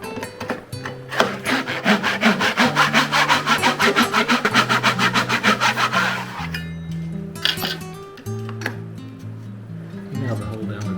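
A hand saw cuts kerf slots into wood kerfing strips, close rhythmic rasping strokes in a fast steady run, then a pause and a few slower strokes.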